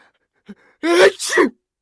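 A single close sneeze with a short intake of breath before it, loud and sudden in a quiet room.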